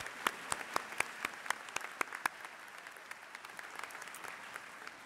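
Audience at a university engineering and computer science commencement ceremony applauding, a steady wash of many hands clapping with sharp individual claps standing out, sustained throughout and fairly distant in a large hall.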